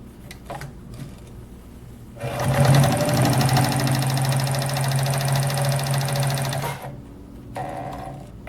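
Morse Fotomatic III sewing machine running a widest zigzag stitch: a loud, steady mechanical hum with rapid rhythmic needle clatter that starts abruptly, holds for about four and a half seconds, then stops, with quiet handling noise before and after.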